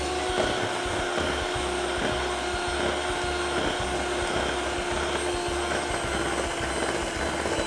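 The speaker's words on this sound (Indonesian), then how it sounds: "Kita naikkan kecepatan mixer, dilanjutkan mengocok sampai pucat banget ya, sampai mengembang sekali" An electric hand mixer beating sago cheese cookie dough, a steady whirring motor hum with a rhythmic low chop as the beaters work through the mixture, with no talking over it.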